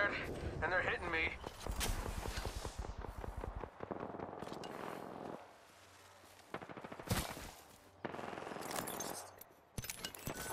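Rapid bursts of gunfire from the Apex Legends battle royale, dense cracking volleys early on, then scattered single shots and short bursts amid other game sounds, with voices talking over the action.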